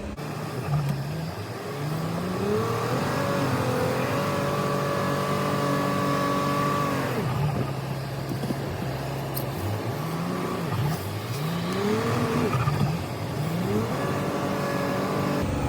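A car stuck in winter snow, towing a trailer, its engine revving up and down repeatedly as the tires spin, loud and close, with rising and falling whines through the whole stretch.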